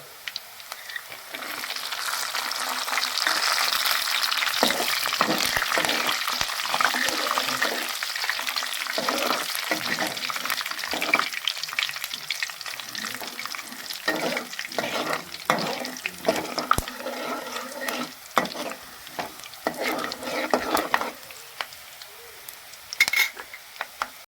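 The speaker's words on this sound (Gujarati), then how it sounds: "એના પછી નાખશું આપણે સિંગ દાણા." Peanuts frying and being stirred in hot oil in a home kitchen pan while making Gujarati batata poha, a steady close sizzle with scraping stir strokes and clatter, a running tap or sink water partly mixed in.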